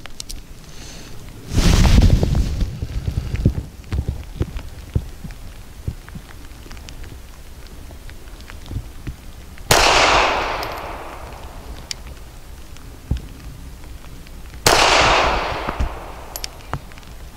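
Several loud pistol shots from a SCCY CPX-4 firing PMC Starfire 95 grain hollow points outdoors: one early blast followed by a scatter of small clicks, then two more sharp reports spaced about five seconds apart.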